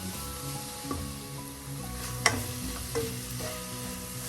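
Masala frying in a pan for a Kerala Malabar-style chicken curry gives a steady low sizzle, with a few soft stirring scrapes and one brief sharp clink partway through.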